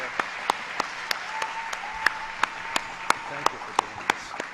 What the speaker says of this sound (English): I think we should all give her a round of applause.